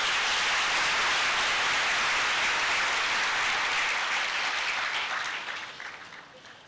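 Dense, sustained applause from a large conference audience, loud and even for several seconds before tapering off toward the end, with no talking over it.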